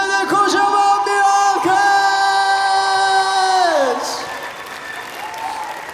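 A concert audience at an outdoor Red Bull Jukebox stage at KüçükÇiftlik Park applauds loudly, with cheering mixed in and a sustained musical tone ringing over the clapping before it fades.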